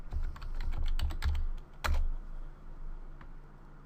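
A password is typed on a computer keyboard, a quick run of close key clicks followed by a firm final keystroke and a few scattered taps.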